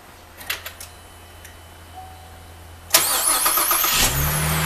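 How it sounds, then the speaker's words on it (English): A 2008 Saturn Aura V6 cranks and fires up after a starter replacement, with a few faint clicks and taps in a quiet garage first, then a sudden loud start settling into a steady idle. "We're going to go ahead and verify our repair and start this vehicle up."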